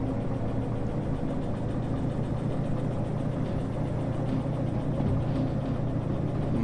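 A train locomotive accelerates in Derail Valley while hauling a heavy consist of wagons, giving a steady, loud low engine drone with constant vibration throughout and no talk.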